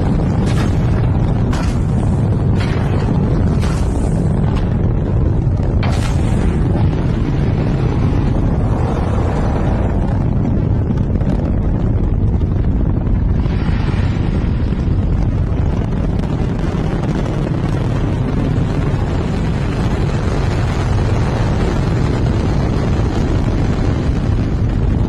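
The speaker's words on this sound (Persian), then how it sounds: "این موتور بود که موشک ساترن 5 رو به سمت ماه پرتاب کرد" Saturn V rocket F-1 engine launch roar, a loud, continuous broadband rumble that sustains across the whole stretch with wind-buffeted crackle and brief sharp bursts early on, no voices.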